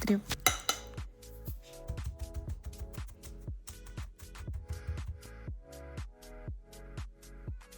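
A spoon stirs and presses a cheesecake base of crumbs, melted butter and freeze-dried raspberry, making a rapid series of clinking, scraping knocks against a bowl, close and fairly even.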